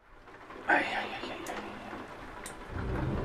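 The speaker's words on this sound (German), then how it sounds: "Jetzt regnet es natürlich auch noch." Steady rain in Euro Truck Simulator 2 hisses as a broad wash behind someone talking, getting louder and heavier toward the end.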